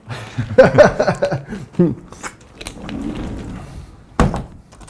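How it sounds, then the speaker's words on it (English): A door is pulled shut with a sharp thunk near the end, preceded by chatter and a chuckle from nearby voices during a casual podcast conversation about mental health. "I'm gonna close that door just quickly."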